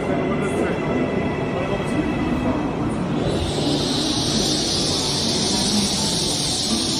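A slow green passenger train rumbles along in China, giving a steady dense roar with hiss and rattle throughout and a brighter high whine rising partway through.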